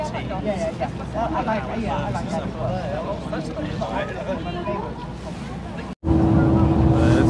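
A canal tour boat in Nyhavn, Copenhagen, starts moving: people talk over wind and water noise, then a loud, steady engine drone swells in near the end.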